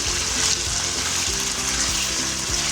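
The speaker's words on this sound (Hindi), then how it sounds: "इसको करना है फ्राई, ज़्यादा गोल्डन नहीं करना" Ingredients for green chicken karahi fry with salt in a pan, a continuous close sizzle with a low rhythmic undertone and no voices.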